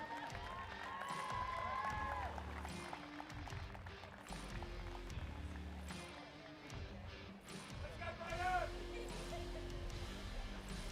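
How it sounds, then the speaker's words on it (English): Crowd at a STIHL Timbersports Australian pro championship applauding and cheering competitors, a steady wash of clapping and voices with some speech mixed in. "Ladies and gentlemen, big round of applause."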